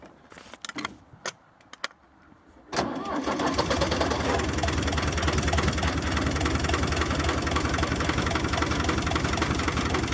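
Tractor engine cranking with a few sharp mechanical clicks and clunks, then catching and settling into a loud, steady, close-up idle with an even low rumble that continues to the end.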